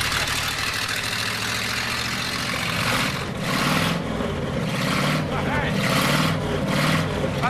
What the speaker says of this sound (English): Fantastic tick over for an engine that's not run for so long, isn't it?